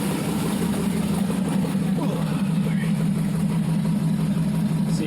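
An LS V8 engine for a Chevrolet Caprice swap idles on a run stand, a steady, even, low mechanical hum and rumble held at constant level throughout.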